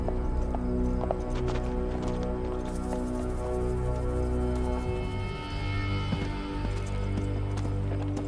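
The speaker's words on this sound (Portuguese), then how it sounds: "O povo da floresta tem cavalos." Horse hooves clip-clopping in an adventure film, a steady rhythmic trot of hoofbeats over a dense, layered background score, heard without speech.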